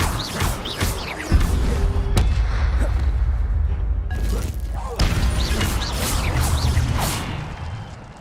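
Incendio fire spell cast in the game Hogwarts Legacy, a loud whooshing burst of flame among thuds and crashes of combat, close and full, with bursts of game sound throughout and no clear talk.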